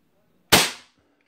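A stock Crosman 1322 air pistol, pumped ten times and loaded with a Rabbit Magnum pellet, fires one sharp, close crack that dies away within half a second in otherwise quiet surroundings.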